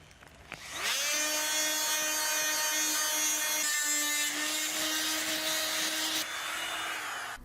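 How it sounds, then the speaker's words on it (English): An oscillating multi-tool fitted with a sanding head whirs against plastic wood filler on a house repair. A loud, steady high-pitched whine starts after a short pause and holds for several seconds before cutting off. "now I'm going to use the oscillating tool again with a new head on it, a sanding head, to sand the plastic wood clean"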